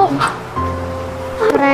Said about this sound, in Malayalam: ഇവിടെ ഒരു ഡോഗ് ഇരിപ്പണ്ടതാണ്.